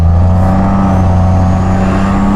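A truck nicknamed Papa Smurf drives along with its engine droning loud and steady, a deep low hum with a faint revving rise, close and uninterrupted with no talking.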